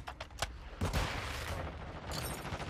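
Automatic gunfire from the video game Modern Warfare 2 multiplayer bursts out in a few rapid cracks, then a heavier blast, followed by a rolling, noisy tail, moderately loud with no talk.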